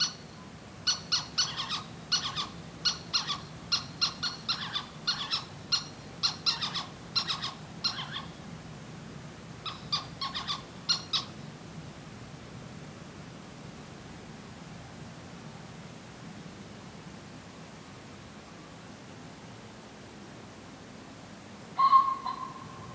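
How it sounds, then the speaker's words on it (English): Little owls calling in a duet at night in an open field, a series of short sharp hooting calls in quick bursts over a faint steady hiss, then a pause and one brief louder call near the end. "These little owls are certainly busy tonight, treating me to another lovely duet."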